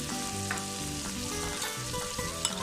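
Golden garlic fries in a pan with seasoning sauce and black pepper for black-pepper garlic shrimp, giving a steady, close sizzle with light stirring clicks.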